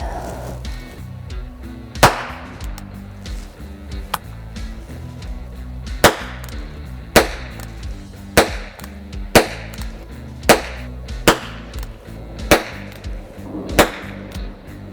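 Sharp, single gunshot-like cracks from a small-calibre Flobert revolver (ZBROIA Profi) fired at a target from a table, about a dozen spaced a second or so apart, fairly loud over a low background hum.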